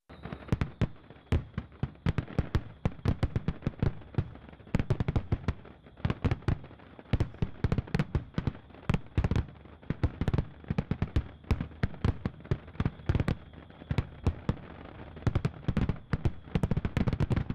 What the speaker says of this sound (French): Chaque 14 juillet, Carcassonne s'embrase sous un des plus grands feux d'artifice d'Europe